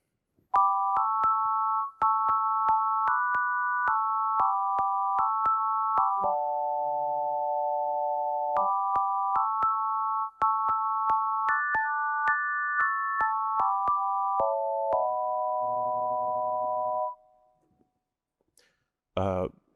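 Clean, digitally generated synthesized tones play a simple stepwise melody of short chords and held notes, evenly paced and alone, ending after about seventeen seconds.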